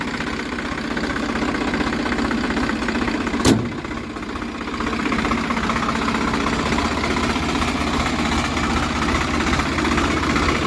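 Engine of a new Swaraj 855 4x4 tractor running steadily at a low rumbling idle, with a brief sharp knock partway through and no talk.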